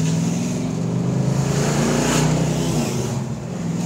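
A 1984 Ford Mustang GT350 on a test drive over bumps, its engine giving a loud, steady drone close up, with the cabin rattles mixed into the constant road noise.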